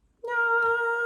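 A house cat lets out one loud, close, drawn-out meow. It starts suddenly and holds a clear, steady tone for nearly a second, with no other sound.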